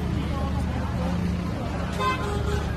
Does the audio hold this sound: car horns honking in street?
yes